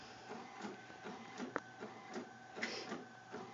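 A Cricut Imagine machine cutting paper, a quiet series of soft whirring motor passes and light mechanical ticks at an uneven rhythm, close up and alone.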